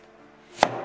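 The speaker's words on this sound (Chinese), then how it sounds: "切成滚刀块，" A knife cuts peeled sweet potato into chunks on a board, a single close, sharp chop landing after near silence.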